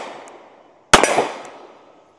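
A SIG P365 pistol fitted with Armory Craft Fuse accessories is fired one-handed: a single sharp crack about a second in, ringing briefly as it fades, with quiet before and after.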